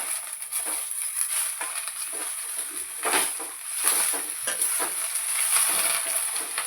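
Pundi palya greens hit a hot pan and are stir-fried, giving a steady close sizzle with scraping and stirring bursts that rise and fall throughout, no voices.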